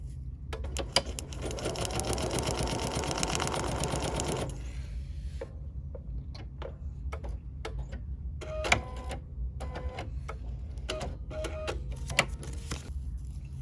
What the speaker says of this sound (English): then we're ready to stitch again